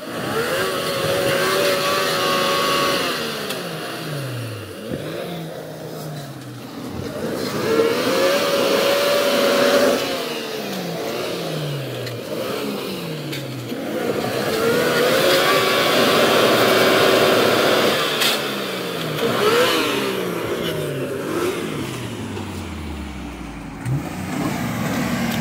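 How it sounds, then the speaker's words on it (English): A car engine revs hard and repeatedly while trying to get through a mud hole on a Michigan Upper Peninsula trail, rising and falling in long strained surges with a constant rough roar, no talking. "It took Eric about 30 tries over the course of like 15 minutes to make it through this mud hole"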